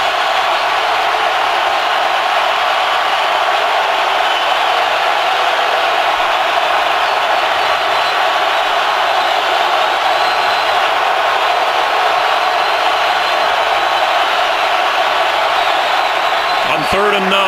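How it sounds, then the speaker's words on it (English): A rowdy stadium crowd at a 2015 Week 16 NFL game between the Rams and the Seahawks, a dense, steady roar that stays loud and unbroken for the whole stretch. "and now the crowd is getting rowdy too"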